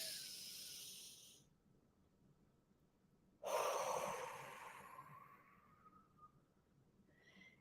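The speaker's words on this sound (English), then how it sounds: "So we inhale through the nose," A slow, airy inhalation through the nose rises sharply mid-clip and fades over a couple of seconds, following an earlier softer breath, close and quiet.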